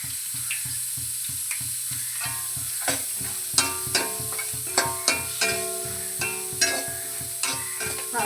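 Curry leaves and dried red chillies fry in hot oil for a Kerala-style pork fry, a steady close sizzle punctuated by repeated scraping and tapping stirs, with no talk.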